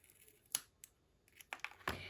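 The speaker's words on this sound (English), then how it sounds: "And then what I do is I cut my circle in half." Scissors snip through a paper circle while crafting a clutch purse card, a few quiet, sharp cuts with short gaps between them.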